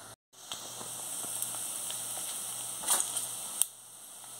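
Garlic and bacon frying in a pan, giving a continuous close sizzle with small pops and crackles and a brief sharp spike near the end.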